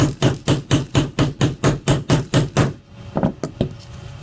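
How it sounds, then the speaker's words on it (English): A hammer strikes a metal eyelet set into a leather cuff bracelet, about a dozen firm, evenly paced blows close up, followed by a few lighter taps. "You need to be firm with it, but you don't want to hammer it too hard"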